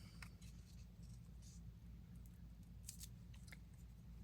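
Scissors trim paper while a zine is being decorated, giving a series of crisp, quiet snips at an irregular pace over a low, steady room hum.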